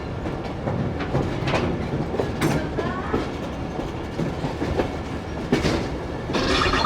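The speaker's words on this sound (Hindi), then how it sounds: "बसाल से भी कोई ट्रेन आ रही है जी" A train rolls past nearby on a line between Rawalpindi and Attock, with a continuous loud rumble and clickety-clack of wheels over rail joints and occasional sharp metallic squeals, and no voices.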